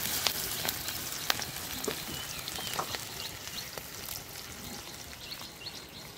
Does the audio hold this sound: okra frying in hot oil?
yes